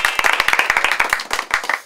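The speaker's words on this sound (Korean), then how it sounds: "박수로 보내드립니다" An audience claps at a Korean reality show filming before an escape room game, with brisk, dense, loud hand claps in a fast irregular rhythm close to the microphone and no speech over them.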